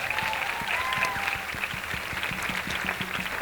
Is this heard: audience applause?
yes